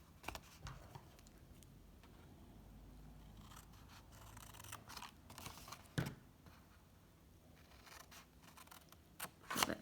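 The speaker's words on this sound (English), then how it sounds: "with scissors, we're just going to trim up from this bottom line up to the horizontal line on these two score lines" Scissors snip and scrape through patterned paper along score lines, a few quiet cuts over a low background hiss, with one sharper crunch midway and a couple near the end.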